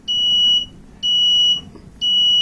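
A buzzer on a Raspberry Pi face mask detector sounds three times in a row, each a loud steady high-pitched electronic tone lasting about half a second, with short gaps between them.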